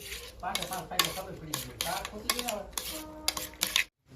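A spoon stirs chana masala after lemon juice goes in, giving quick repeated scraping and clinking against the pan close up, under a voice talking throughout, before a sudden stop.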